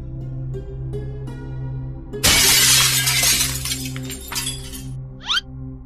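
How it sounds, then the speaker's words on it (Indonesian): Glass shattering in a quiet indoor room: one sudden loud crash of breaking glass over a steady low hum, with scattered tinkling shards trailing off afterward. "Seperti kaca pecah gitulah"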